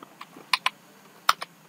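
Several sharp, irregular clicks from a computer keyboard as code is typed for a web design tutorial, close and quiet with gaps between keystrokes.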